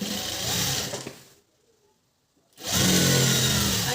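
A sewing machine stitching a blouse runs in a fast, steady whir, stops abruptly for about a second of near silence, then starts again at full speed, loud and close.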